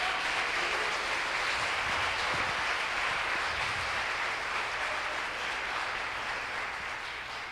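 A church congregation applauds in a dense, sustained wash of clapping that fills the room steadily for several seconds without pause.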